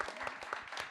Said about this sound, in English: Clap for Dan.